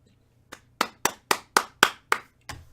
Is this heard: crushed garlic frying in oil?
no